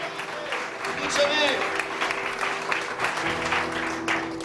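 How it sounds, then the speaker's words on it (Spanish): Church congregation applauding during a service, a steady wash of clapping mixed with crowd voices and a sustained instrumental tone underneath. "Si lo va a aplaudir, hágalo fuerte al Señor."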